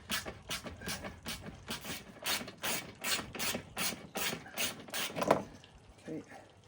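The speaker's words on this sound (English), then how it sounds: "just got the socket now to remove the bracket" A socket ratchet clicks in repeated short bursts, removing a 10mm nut from a bracket on a VW Passat during a front bonnet lock replacement, close and fairly quiet with a brief voice near the end.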